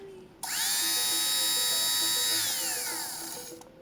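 Small electric lint remover (fabric shaver) switched on, giving a close, steady buzzing whir that rises briefly in pitch, holds for a few seconds, then cuts off.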